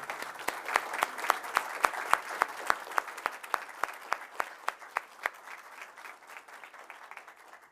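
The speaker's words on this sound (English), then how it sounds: "please give a round of applause for Easton Muscara" A county board of education meeting applauds student Easton Muscara, with a room of scattered clapping under a string of loud, sharp, evenly spaced claps from one nearby person that continue for about five seconds before the applause fades.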